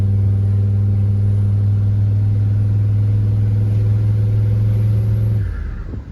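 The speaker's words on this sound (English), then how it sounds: "something sick and air-cooled just drove by" An old air-cooled convertible car drives by: a loud, steady engine drone dominates close up, then cuts off and fades away quickly near the end.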